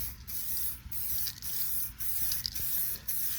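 Short bursts of aerosol spray from a can of 2K clear coat hiss in a regular rhythm, about six quick sprays separated by brief pauses, close and fairly quiet.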